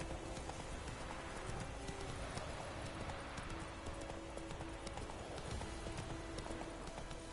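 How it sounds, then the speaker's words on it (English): Steady clip-clop of a horse's hooves galloping through The Witcher 3 video game, continuous and fairly close throughout, with a faint whinny and game ambience underneath and no talking. "Go on then, Roach. Giddy up."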